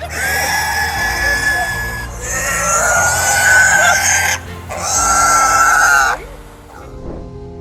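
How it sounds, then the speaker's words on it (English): An abandoned pig wandering along a roadway gives loud, harsh, tonal squeals and grunts in three long bursts, close to the microphone, followed by quieter outdoor sounds. "Police bodycam footage follows officers as they chase down and rescue an abandoned pig"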